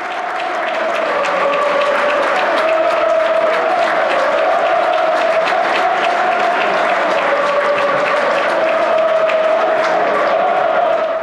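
Stadium crowd applauding and chanting for a goal by Davide Moscardelli, a loud, steady wall of clapping and massed voices with a sustained chanted tone running through it for the whole stretch.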